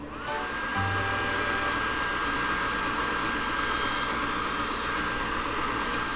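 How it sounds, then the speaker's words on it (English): An automatic hand dryer in a subway station restroom blows with a loud, steady roar that switches on abruptly and holds for several seconds, alone without talk. "He's having fun drying his hands under the automatic dryer."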